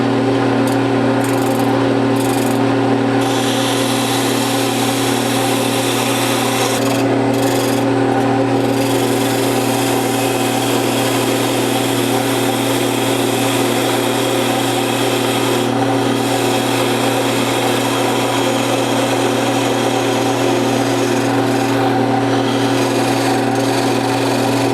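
Turned wooden parts for a treadle tape loom being sanded on a power tool, a loud, continuous motor hum and abrasive whir that runs unbroken throughout with no speech.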